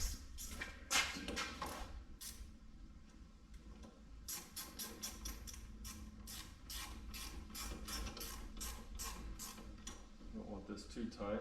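Wrench ratcheting on an engine part of a 1969 C50 truck with an LS swap, rapid clicking strokes in quick repeated bursts, fairly close, with faint voices in the background.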